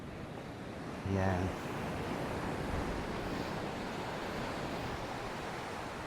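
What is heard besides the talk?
sea waves at a beach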